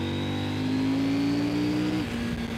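A CFMOTO Ibex 800 motorcycle engine revs steadily, its tone rising and then dropping back near the end, loud and close with no talk over it.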